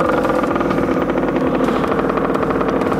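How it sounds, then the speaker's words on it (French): A motorcycle engine revs with a rough, pulsing mid-pitched growl while the clutch slips during a gear change, close and loud throughout. "vous allez débrayer doucement en mettant un peu de gaz. Il faut laisser patiner la moto"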